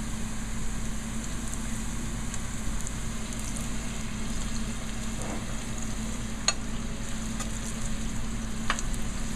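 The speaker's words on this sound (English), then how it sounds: "they're very hot when they are cooked in this oil" Shallots deep-frying in 375-degree oil make a steady, dense sizzle and crackle throughout, with a few sharper pops rising above the continuous bubbling; no voices.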